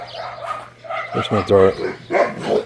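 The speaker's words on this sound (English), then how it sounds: "dogs like to argue with the neighbors" Dogs bark at the neighbors outdoors, a short burst of several sharp, fairly close barks mixed with someone talking over them.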